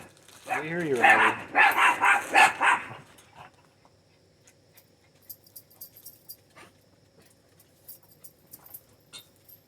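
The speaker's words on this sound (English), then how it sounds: "Gotta love it when the dogs are flipping out." Dogs barking excitedly at neighbor kids outdoors, a quick burst of loud barks followed by quieter scattered yips and clicks, with a person speaking nearby.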